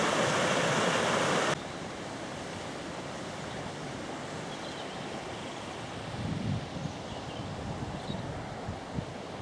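Water pouring over a canal overflow near Lock 15 on the Grand Canal Way, a steady mid-level rushing wash heard from nearby, preceded by a brief louder burst at the start.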